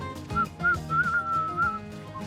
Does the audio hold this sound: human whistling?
yes